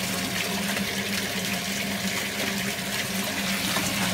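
Water discharges through a pressure relief valve into a soil stack, a steady rushing, gushing flow with a faint low hum that continues unbroken at moderate volume, with no speech.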